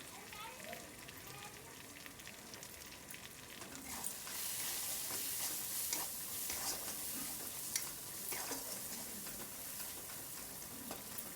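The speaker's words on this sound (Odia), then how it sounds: "ଆମେ ଏଥିରେ ହାଫ ଚାମଚ ହଳଦୀ ଗୁଣ୍ଡ, 1 ଚାମଚ ଧନିଆ ଗୁଣ୍ଡ ଏବଂ 1 ଚାମଚ ଲଙ୍କା ଗୁଣ୍ଡକୁ ପକାଇକି ପୁଣି ଥରେ ଭଲସେ କଷି ନେବା" Turmeric, coriander and chili powder sautéing in a pan for a vegetarian curry, a soft continuous sizzle that grows louder midway, with stirring scrapes close by.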